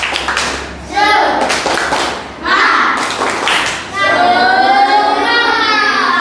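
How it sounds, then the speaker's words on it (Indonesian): Students clapping together in a classroom during a lesson, bursts of rhythmic group clapping with a teacher speaking between them, close and loud. "Oke, tepuk tangan."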